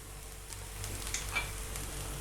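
Capsicum rice being stirred and mixed in a pan, with soft sizzling and a few light scraping touches, quiet and close with no talk.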